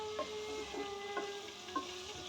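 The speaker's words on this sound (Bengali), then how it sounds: "এটা এখন মশলার ভিতরে দিয়ে ভালো করে কষাতে হবে" Pointed gourd (potol) and shrimp are stir-fried in spice masala in a pan, a quiet steady sizzle broken by a few rhythmic scraping stirs, with no talking.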